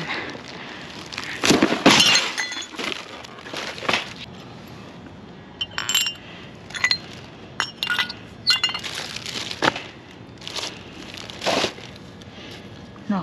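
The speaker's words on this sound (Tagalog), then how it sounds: "nabasag yung baso." A drinking glass drops and shatters during a dumpster dive, with sharp clinks and breaking crunches followed by scattered tinkling and crackling shards over several seconds, close and fairly loud.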